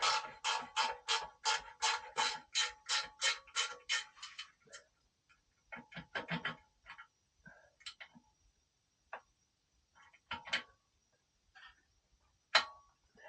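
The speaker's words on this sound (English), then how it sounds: "this little ratchet does a fantastic job" A small hand ratchet works on a motorcycle exhaust bolt of a Yamaha Tracer 7 or MT-07, clicking in a quick even run of about a dozen ticks, then scattered, irregular clicks and taps, close and quiet with no talking.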